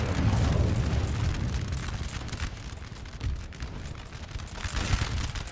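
An artillery barrage from massed guns in Napoleon Total War, heavy rumbling booms and overlapping blasts in a continuous loud wash, with a few sharper bursts standing out.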